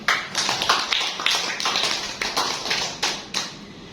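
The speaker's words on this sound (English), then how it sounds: "Give applause for Melody." Classroom applause for a student: a few pairs of hands clapping in a quick, uneven rhythm, close by and fairly loud, with no talking over it.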